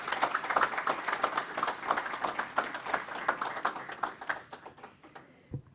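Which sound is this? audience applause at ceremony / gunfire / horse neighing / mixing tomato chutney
audience applause at ceremony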